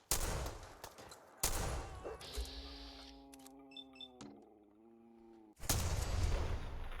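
Gunfire rings out in Fallout 4 in dense bursts at the start and again near the end, with tonal electronic and voice-like game sounds between them.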